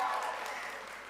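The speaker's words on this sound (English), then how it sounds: "We need a little more applause than that" A crowd at a public sector debate competition grand final gives a brief, faint round of applause, a dense, even wash of clapping that fades slightly.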